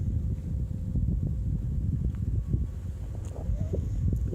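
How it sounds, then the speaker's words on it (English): Wind gusts across an open outdoor site in a low, steady rumble with buffeting against the microphone and a few faint, scattered ticks. "It's windy."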